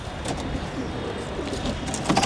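Pigeons coo softly at close range amid rustling and fluttering movement, with a few brighter bird calls near the end.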